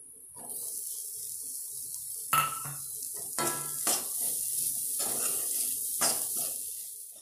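Chopped banana stem is tipped into roasted spice powder in a pan and stirred for pickle. A high steady sizzle carries sharp clatters and metal scrapes of the spoon against the pan.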